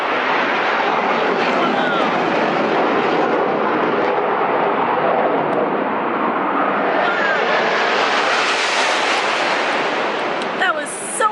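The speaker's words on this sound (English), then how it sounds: "What do you think of the airplanes? They're loud, I know." Fighter jets roar overhead at an air show near a flamingo exhibit, a loud continuous broadband engine roar that swells and sweeps upward as the aircraft pass close, with brief faint voices near the end.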